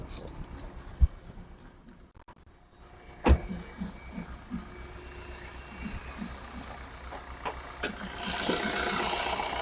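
A 2015 Maruti Ritz VDi diesel car engine idles steadily with a low, even rumble, joined by a few sharp clunks and a brighter hiss toward the end.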